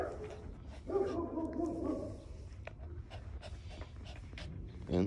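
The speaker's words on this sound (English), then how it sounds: "Who you barking at?" A dog gives a short whining bark and a few yips, close by, with soft scratching and rustling around it.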